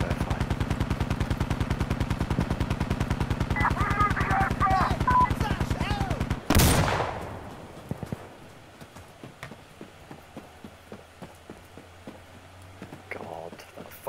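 Rapid, steady light machine gun bursts from a video game, loud and close for about six seconds, then a sharp blast followed by scattered single shots and distant pops.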